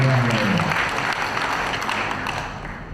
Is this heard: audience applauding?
yes